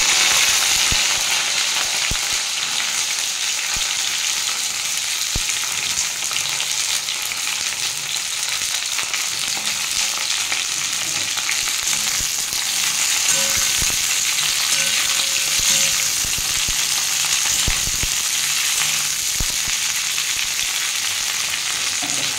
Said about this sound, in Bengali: আমি এবার ঢেঁড়সগুলো ভেজে নেব। বেশি ভাজবো না, হালকা করেই ভাজবো।